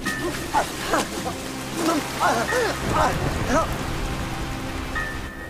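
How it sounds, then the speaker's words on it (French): A steady hiss of heavy rain pours down throughout, with wavering whistle-like tones and a muffled bark rising over it at moments. "C'est le déluge!"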